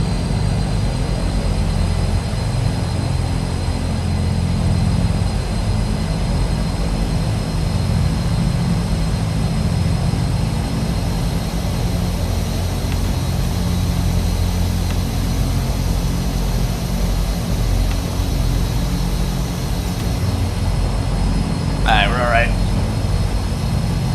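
Twin Otter propeller engines in Microsoft Flight Simulator on a Yeti Airlines flight near Mt Everest, a steady, loud low drone and hum that holds throughout, with a brief chirp near the end.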